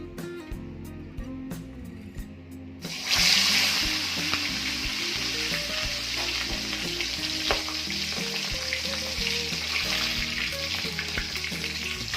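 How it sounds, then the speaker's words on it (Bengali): After a quiet moment with low background hum, a fish head drops into smoking-hot oil in a large wok and an intense sizzle erupts, then holds as a loud, steady crackling fry to the end. "তেলটা ভালোভাবে গরম হয়ে গেছে, দেখুন ধোঁয়া বেরোচ্ছে। এবার দিয়ে দিচ্ছি মাছের মাথাটা।"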